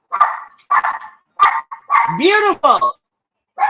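Several dogs that had been sleeping by a bridge in Ganya bark in sharp, loud bursts, rising into a few yelping, whining barks, while a person speaks nearby between them.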